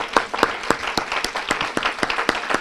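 A church congregation claps hands together in a steady, even rhythm, many hands striking in unison at a lively pace, loud and full in the room.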